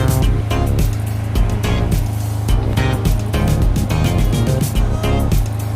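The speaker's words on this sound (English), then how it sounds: "I'm just sewing down my sewable boning" Sewing machine stitching sewable boning down onto fabric, a loud continuous mechanical whir with rapid rhythmic needle clatter and small shifts in pace, heard close and alone.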